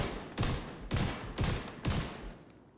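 Gunfire from a crit-focused build during a headshot kill in The Division 2, with four loud, evenly spaced shots about half a second apart, each with a sharp crack and a short decaying tail.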